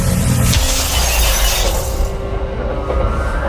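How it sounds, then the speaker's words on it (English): Glass in railway coaches shatters under a blast shockwave, a loud, dense crash of breaking panes over a continuous heavy rumble that slowly thins out. "It caused the glass in the coaches to shatter and rock them side to side."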